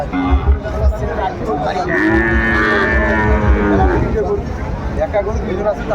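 A Sahiwal-breed cow gives one long, loud moo over a busy cattle market background of people chattering and crowd noise.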